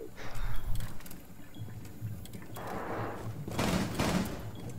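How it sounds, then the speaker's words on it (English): Gunfire in Rainbow Six Siege, heard as a faint background exchange of shots with short, scattered bursts and a few louder volleys toward the end, at a distance and with no talk. "I'm gonna shoot him in the knee."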